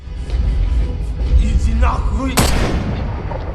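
Gunshots in an action film scene, a few heavy booming cracks with one sharp bright report near the end, loud and close over a low rumbling score.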